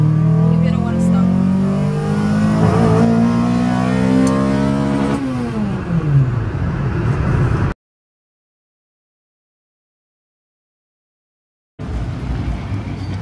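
A car engine fitted with a muffler runs loud and close, holding a steady drone and then dropping in pitch as it eases off. The sound cuts out briefly before the drone returns.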